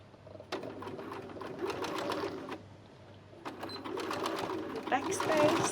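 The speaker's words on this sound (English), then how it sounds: "now we will start to sew" A sewing machine stitches a pinned felt satchel in two rapid bursts of close mechanical chatter, separated by a brief pause.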